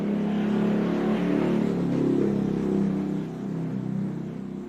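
A vehicle with a loud modified exhaust rumbles past, a deep throaty engine drone that swells and then fades as it moves away.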